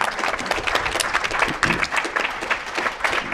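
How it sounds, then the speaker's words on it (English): A crowd at an evening event gives a round of applause for the organizers, dense continuous clapping filling the whole stretch at close range. "a big round of applause for the guys who put this together tonight"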